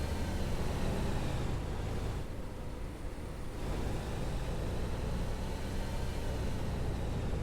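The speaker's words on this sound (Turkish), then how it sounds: "Oh be otobüsün sesini duyuyoruz ha." A tour bus engine runs steadily in the Tourist Bus Simulator game, a constant broadband drone that dips briefly midway before returning to the same level, with no voices.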